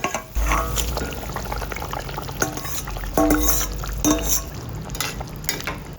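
Red bhetki fish head poured into a hot pan of oil, a liquid splash and pour followed by continuous sizzling and bubbling with occasional scraping clinks.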